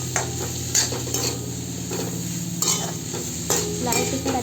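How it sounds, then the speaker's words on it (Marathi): Spring onion greens being stirred into a sizzling potato stir-fry, a loud close frying hiss with repeated scraping spatula strokes against the pan at an irregular rhythm. "आणि ह्यातच घालूया कांद्याची पात, अर्थातच ओला कांदा, आणि छान मिक्स करून घेऊया।"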